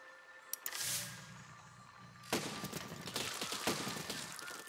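Cannon fire in the physics building game Besiege: after a brief pop, a burst of crackling blasts and crumbling debris rolls on for several seconds, moderately loud over a faint background hum.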